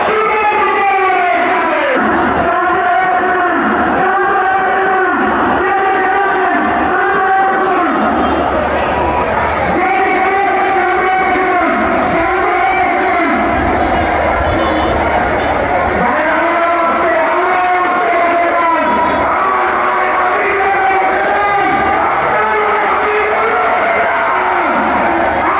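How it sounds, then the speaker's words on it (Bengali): Dense protest crowd chanting slogans at Shahbag in Dhaka, rhythmic massed voices rising and falling in repeated waves, loud and close, with steady babble and shouting throughout. "শাহবাগের আনাচে কানাচে নেতাকর্মীদের ঢল, সাধারণ মানুষের ঢল, সবারই একটি স্লোগান"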